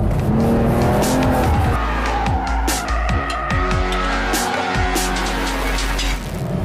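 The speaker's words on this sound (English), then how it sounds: "here you see a little bit of oversteering" A 2021 BMW 4 Series oversteering on a track, with a loud, close engine that rises and falls through gear changes while the tires squeal in long wavering bursts.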